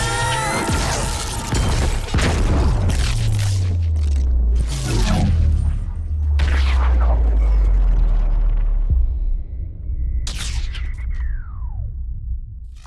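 A giant blue explosion from the Sonic the Hedgehog movie bursts out as layered booms and rumbling crashes with whooshing debris, followed by a falling whistle-like tone near the end.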